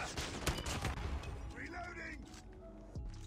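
Gunfire from the NA45 sniper rifle in Call of Duty Mobile, several sharp shots with impacts early on, then a fading tail, at low volume under a speaking voice.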